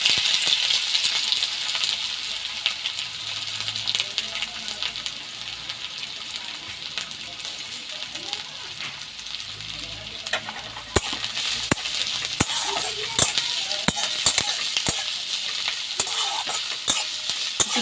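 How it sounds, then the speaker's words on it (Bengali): Chopped onions hit hot oil already seasoned with dried red chilli, giving a loud, steady sizzle and frying hiss, with stirring scrapes and clinks breaking in more often toward the end. "এবার আমি এই কেটে রাখা পেঁয়াজগুলো দিয়ে দেবো।"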